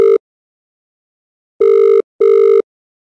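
A phone rings for an incoming call in a Japanese summer horror game, where it marks a strange event: a clipped electronic tone, then after a silence two loud identical ring bursts close together, with no voices.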